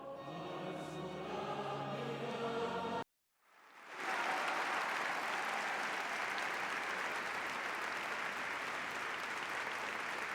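Sustained applause from a crowd of around 600 people inside Santa Ana cathedral in Las Palmas de Gran Canaria, welcoming the Pope; steady dense clapping after a brief cut, with earlier murmuring of the crowd.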